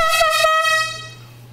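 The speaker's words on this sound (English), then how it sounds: "that's an air horn, guys." A big air horn blows one loud, sustained blast close by during socialisation training of a 10-week-old Doberman puppy, its tone cutting off sharply and leaving a low hum that fades out.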